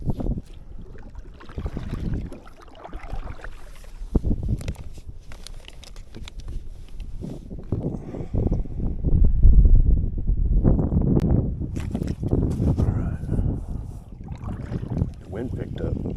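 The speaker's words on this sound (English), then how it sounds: "Wind picked up." Outdoors on the water while fishing, wind gusts rumble steadily across the microphone, swelling louder midway with some splashing patter underneath and no clear talk.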